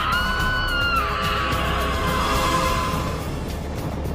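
Riders on the Millennium Force roller coaster at Cedar Point scream together in a long sustained wail, with loud rushing noise underneath.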